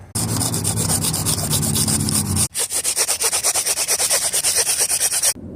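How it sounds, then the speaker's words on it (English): Sandpaper rubbed briskly against a ferro rod to smooth its grooves, one long continuous scrape and then a quick run of rhythmic back-and-forth strokes, close and loud. "You'll start to see the grooves going away, and now switch to a finer sandpaper."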